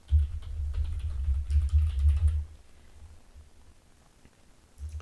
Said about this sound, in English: I can simply go here and I can just type in the new email address.